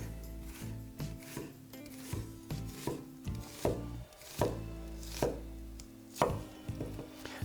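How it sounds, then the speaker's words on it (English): A knife slices an onion on a chopping board in a steady series of close, crisp cuts and taps, with no voices. "try and cut in as close as I can to the center"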